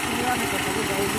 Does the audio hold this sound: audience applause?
no